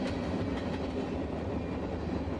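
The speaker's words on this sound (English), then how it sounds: "and a decent-sized manifest train here" A small freight manifest train hauled by Union Pacific locomotives rolls past a quiet-zone crossing in Greeley, a steady rumbling roar of wheels and cars, close and continuous, with no voices.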